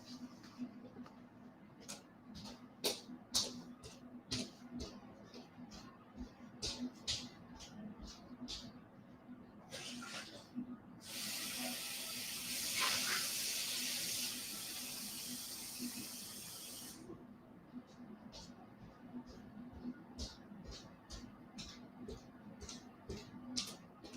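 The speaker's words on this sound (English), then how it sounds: "Let me get some fresh water." A kitchen tap runs for several seconds midway, a steady rushing flow that starts and stops abruptly, set among quieter scattered ticks and clicks.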